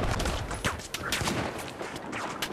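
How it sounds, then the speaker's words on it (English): Gunfire rattles in Battlefield 4: close, dense bursts of shots crack one after another throughout, loud and continuous with no pause. "Ooh, we're getting shot."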